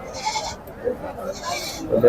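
Large male goats bleating at the Pebbair livestock market, with a couple of wavering calls amid crowd noise and people talking nearby.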